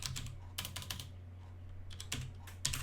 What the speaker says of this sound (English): So I'm just going to type in VirtualBox